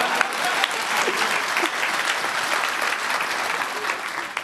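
An audience at a lightning-talks conference session breaks into loud, sustained clapping that holds steady throughout, a dense wash of many hands with no talk on top.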